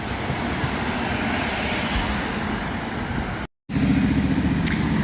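Bus YXM3 OYS, fleet number 11747, passes on a road near Gloucester, a steady engine and tyre rumble with traffic noise, cut by a brief dropout before it resumes louder.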